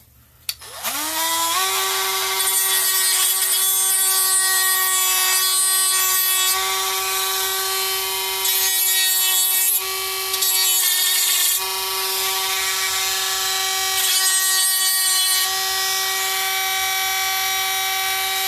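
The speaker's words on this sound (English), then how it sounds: "Just need to Dremel that little bit on the end there." Dremel rotary tool trimming the end of a trophy, spinning up with a click to a loud, steady high-pitched whine that holds for the whole stretch, close and alone.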